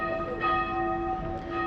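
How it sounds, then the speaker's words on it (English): Church bells ring at noon in Crémieu, a medieval town in France, with a sustained resonant tone and overlapping strikes humming steadily. "Does that mean it's 12 o'clock, those bells?"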